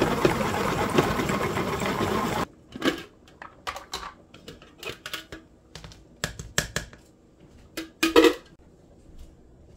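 Washed basil whirls in a salad spinner: a brief dense rushing spin, then a series of sharp plastic clicks and rattles from the spinner's mechanism, close by with quiet gaps between.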